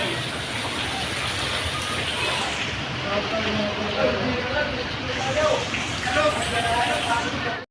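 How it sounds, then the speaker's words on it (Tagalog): Steady heavy rain during Typhoon Enteng in Teresa, Rizal, a broad continuous hiss that carries on alone, without a pause, across the whole stretch. "Maghapon magdamag po ang ulan dito."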